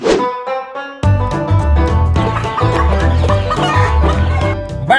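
Chickens cluck and call inside a house full of more than a hundred unusual breed chickens, a dense overlapping chorus of close, loud rhythmic clucks with sustained crowing-like tones.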